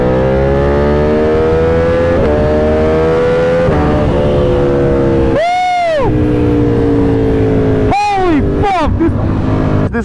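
A loud Ducati Panigale V4 motorcycle engine roars close by while riding, revving up and down through gear changes with sharp sweeping pitch rises and drops.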